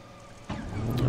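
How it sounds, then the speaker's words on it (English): A P-38J Lightning's engine starter engages in a flight simulator game: after a brief quiet moment a low mechanical rumble kicks in abruptly and steadily builds in strength. "So now we're hearing the starter starting to engage."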